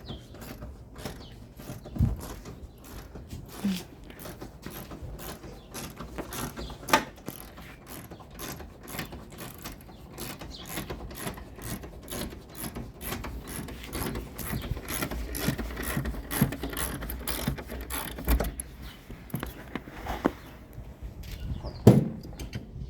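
Ratchet with a 13mm socket loosening the shock absorber bolts on a car, a long run of fast, evenly spaced clicks that keeps going for many seconds, close and fairly quiet, with a few heavier clunks and no talking.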